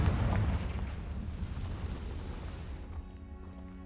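A Confringo fire spell goes off in the Hogwarts game, a loud booming blast with a rumbling low burst up front that decays over a few seconds into a fading, crackling tail.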